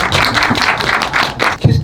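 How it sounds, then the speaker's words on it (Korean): An audience at a cinema screening Q&A claps in a short run of close, sharp bursts with an uneven rhythm, heard alone without talk. "박수 쳐주시면 좋고"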